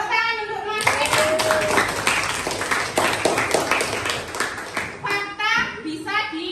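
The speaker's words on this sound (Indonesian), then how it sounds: "Benar, tepuk tangan untuk Mas Rehan." A burst of enthusiastic group clapping from many hands in a classroom lasting several seconds, with children's voices chattering and calling out over and after it.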